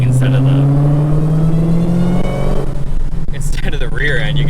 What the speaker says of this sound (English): You can hear the actual supercharger.